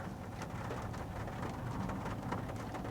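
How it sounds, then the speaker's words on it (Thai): Steady rain falls outside a moving MG4 electric car on a gloomy day, a continuous broadband patter with scattered drops, fairly faint and even throughout, with no voices. "บรรยากาศตอนนี้ก็ฝนตกนะ"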